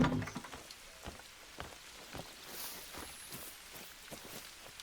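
Steady rain falls across the New England Mountains map of the hunting game Call of the Wild, a soft even patter with scattered drops that continues unbroken and fairly faint throughout.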